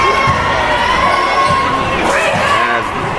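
Crowd noise from spectators at a junior varsity high school basketball game, Caruthersville Tigers against South Pemiscot Bulldogs: loud, steady cheering and young voices shouting in a full gym, swelling slightly near the end.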